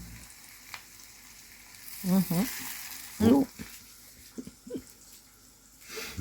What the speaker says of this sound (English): we broke some onion with the wooden spoon there